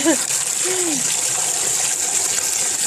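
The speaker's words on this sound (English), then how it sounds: "Turn on the cold water and just wash them." Cold tap water gushes steadily over raw shrimp being rinsed in a kitchen, a loud continuous splashing flow close by, with a brief tonal squeak near the start.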